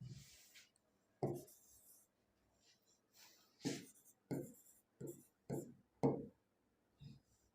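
Chalk or marker strokes on a classroom board while a teacher works through approximating numbers, each stroke coming as a short scratchy burst with gaps between, quiet and close.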